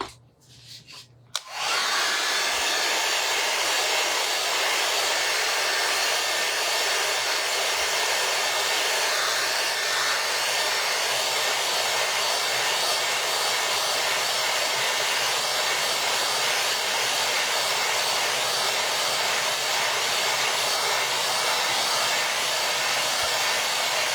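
A hair dryer blows on a freshly painted snowman book cover to keep it from smearing, a steady loud close whoosh starting after a brief pause and running unbroken to the end.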